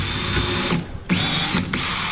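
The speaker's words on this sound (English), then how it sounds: "You can drill all the way through if you want." Power drill boring holes to mount door hinges, loud close-up whirring in two long bursts separated by a brief pause and a short gap.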